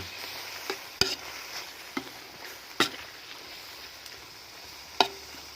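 Quiet stir-frying of field rats in a pan, with a low background sizzle and a few sharp clicks of a utensil scraping and tapping the pan at irregular intervals.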